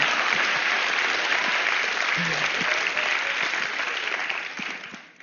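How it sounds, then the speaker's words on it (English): Audience applause at a TED conference talk, a dense sustained clapping from a large crowd that holds steady for several seconds and then fades away near the end, with no speech over it. "clap for them, man"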